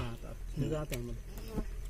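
Bees buzzing around honey freshly taken from a wild hive in the forest, a close, wavering hum coming in short bursts over faint background noise.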